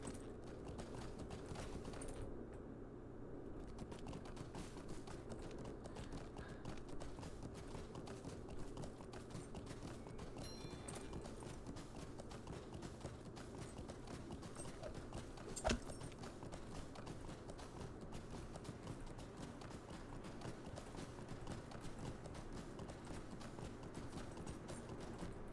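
Horse hooves clip-clopping in the online game The Lord of the Rings Online, a faint, steady trotting rhythm under a constant low background hum, with a single brief louder knock midway.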